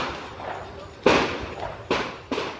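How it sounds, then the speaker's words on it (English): Three sharp cracks of distant handgun fire at a prison, each a sudden bang with a short echoing tail, spaced irregularly over a faint background hum. "you can hear the sounds of gunfire in the distance"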